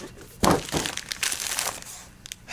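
Wrapping paper crumples and crinkles in a few loud, close bursts while a box is unpacked, followed by softer rustling.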